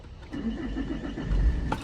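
Saab 9-3 convertible diesel cranking and catching, a short starter whir rising into a low engine rumble heard up close from inside the car.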